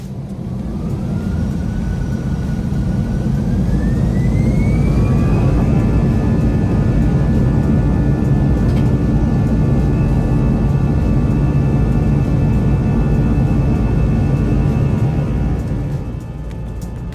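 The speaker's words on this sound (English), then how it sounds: "The spool up and takeoff are up next." Airbus A320 jet engines spooling up for takeoff from Amsterdam, heard from inside the cabin as a rising whine that settles into a steady high tone over a loud continuous roar.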